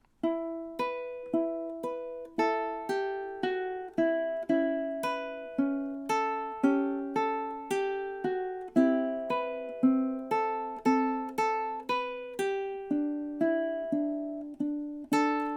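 Ukulele plucks several measures of a song, bright close notes in a steady, even rhythm, each ringing briefly before the next, played solo without talk.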